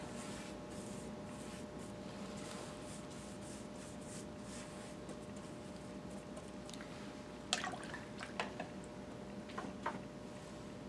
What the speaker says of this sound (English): And I'm going to put a little water on this